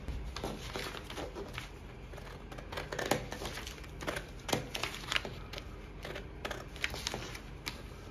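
Scissors trimming excess paper off a dart pattern, a steady run of crisp snipping cuts with crinkling paper, close and fairly quiet, with no talk.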